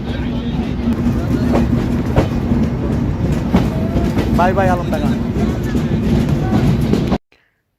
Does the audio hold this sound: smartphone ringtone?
no